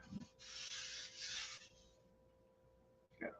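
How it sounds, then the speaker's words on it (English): Sanding a roughed-in build while working on the stabilizer of a VIPER: a steady, close rasping rub lasts about a second and a half, then fades, with a short knock at the start and another at the end. "what I'm doing is sanding."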